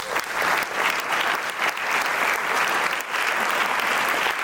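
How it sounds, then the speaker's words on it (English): A keynote audience at a leadership conference breaks into strong, steady applause, a full and even wall of clapping that holds for several seconds without speech. "Another round of applause"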